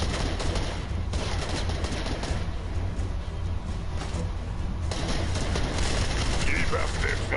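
Rapid gunfire in the video game Fortnite, dense repeated shots and bursts running steadily throughout, loud and close, with mechanical clicks mixed in.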